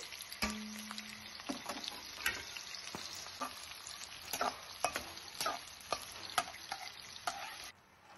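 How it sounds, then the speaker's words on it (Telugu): Onions and green chillies fry in oil in a kadai for boti curry, a quiet close sizzle under frequent scraping and stirring knocks, with a short tonal hum near the start and the sound cutting off at the end. "ఆయిల్ హీట్ అయ్యాక ఉల్లిపాయలు, పచ్చిమిర్చి ఇవి కూడా వేసి వేయించుకోవాలి."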